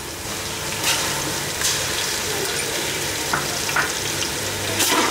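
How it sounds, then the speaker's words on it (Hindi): Ginger garlic paste frying with onions in a pot for Hyderabadi mutton tahari pulao, a steady close sizzle with occasional stirring scrapes and bursts throughout. "अदरक लहसुन को भी प्याज के साथ अच्छे से फ्राई कर लेना है"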